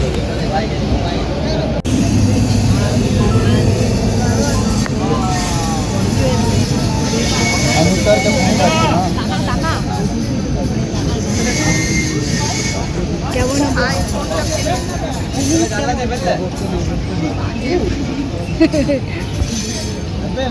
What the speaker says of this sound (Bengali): তো ফাইনালি আমরা নেমে পড়েছি হাওড়া স্টেশনে। এটা হচ্ছে হাওড়া স্টেশন।